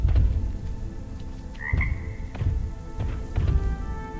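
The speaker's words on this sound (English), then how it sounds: "go and find that frog and kill it" A frog croaks in the video game RiMe over a dense, steady ambience that sounds like rain. A few short croaks sit low in the mix, with one brief brighter chirp standing out.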